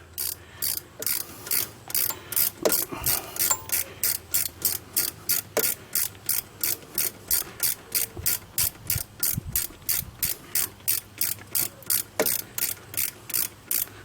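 A ratchet wrench turns in a bolt on a Dodge Dakota alternator during replacement, a long run of evenly spaced clicking strokes, close and fairly quiet, with faint knocks between.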